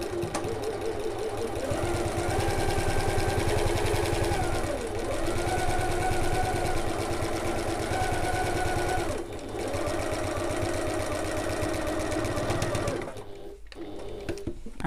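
A sewing machine stitches down the sides and across the bottom of an evening bag, a steady close whirring run broken by short pauses for back stitches, with a brief quieter stretch near the end.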